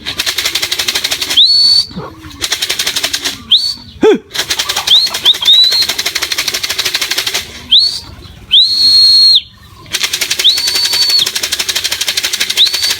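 Racing pigeons flap their wings in several short bursts of close, loud flapping. Whistles and chirps are mixed in among the bursts, with steady background noise between them.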